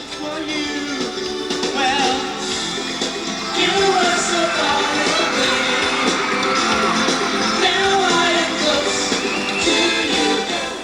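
A packed stadium crowd of teenage fans at a concert in Tulsa screams and cheers continuously, a dense, loud, sustained roar of shrieks and yells.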